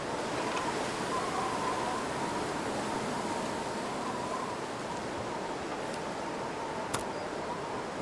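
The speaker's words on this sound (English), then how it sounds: "Hoping this wind maybe dies down a little bit." Steady wind blowing outdoors in the survival video game The Long Dark, a continuous broadband rush with a faint whistle and one brief sharp click near the end.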